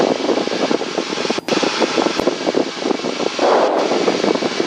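Light single-engine airplane in a steady climb with trim set, its engine droning loud and continuous throughout, with a few brief dips in level.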